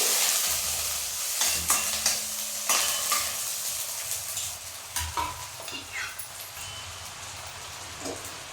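Chopped onions and green chillies sizzle in a hot pan while a spoon stirs and scrapes through them. There are repeated soft scraping strokes over a steady frying hiss.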